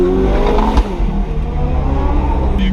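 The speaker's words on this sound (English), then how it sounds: "With this, you can really hear that twin turbo V8 roar." Ferrari 488 twin-turbo V8 on an aftermarket exhaust, a loud, steady engine roar heard from inside the car while driving in Las Vegas, holding a continuous drone with a slight surge early on.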